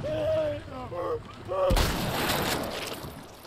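Gunfire in The Last of Us video game: a sudden loud blast that rings out and decays, preceded by a person talking.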